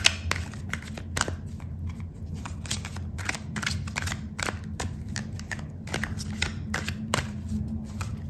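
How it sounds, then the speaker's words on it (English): Tarot cards being shuffled and pulled from the deck, a steady run of crisp riffling snaps and soft slides up close, with no talking. "I'm gonna pull out another card for you"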